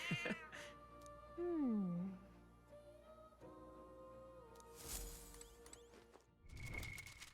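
Cat in the video game Metaphor: ReFantazio meows when petted, a clear close sliding meow over soft game music, followed by a couple of brief clatters and a fainter second meow.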